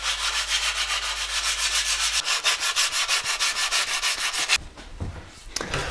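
Steady rhythmic sanding strokes rasp back and forth across painted bicycle frame parts, close and continuous, the scraping shifting texture near the end.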